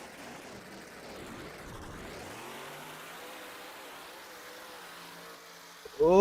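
A monster truck engine at an arena show revs and surges ahead of a backflip attempt, a fairly distant droning rise that swells and eases over several seconds, ending in a sudden louder burst.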